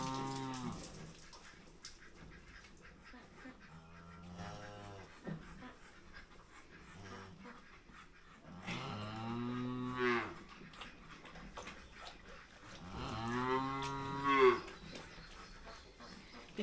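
A cow on a farm lets out two loud, drawn-out moos in the second half, with softer lowing and breathy sounds earlier over a quiet background.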